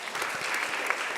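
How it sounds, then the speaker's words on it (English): An audience at a public safety town talk gives a brief burst of applause, a dense spatter of clapping heard alone for about a second. "So a quick round of applause, Samra."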